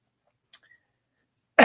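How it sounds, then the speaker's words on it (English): A person coughs twice: a short, quiet cough first, then a louder, harsher cough after a pause of about a second of near silence. "I make myself laugh, I cough."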